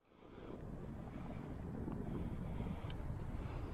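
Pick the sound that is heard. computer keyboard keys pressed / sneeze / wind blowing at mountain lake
wind blowing at mountain lake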